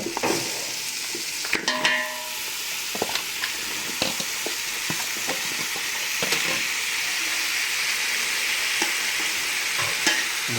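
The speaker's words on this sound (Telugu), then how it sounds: "శుభ్రంగా కలుపుకోవాలి మొత్తం అన్ని ముక్కలు పట్టాలి మసాలా మొత్తం అన్నీ కూడా" Boiled mutton pieces hiss and sizzle steadily in a pan as they are stirred with biryani masala, with frequent scraping and clinking of the spoon against the pan over the constant frying sound, and no talking.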